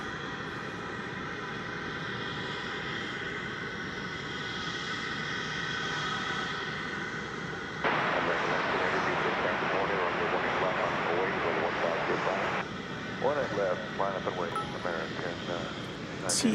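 Airliner jet engines roar steadily at DFW Airport, the broad rumble swelling louder partway through and holding under intermittent talk.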